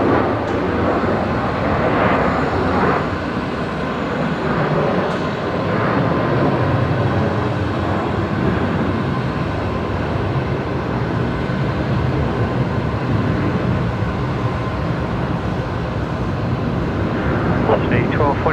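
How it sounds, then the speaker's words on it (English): An airliner, Qantas flight 1911 bound for Canberra, takes off from Brisbane Airport at night, a steady broad engine roar that holds level throughout, while a voice talks over it. "next outbound, Qantas 1911 heading off to Canberra tonight. Just about to rotate, actually."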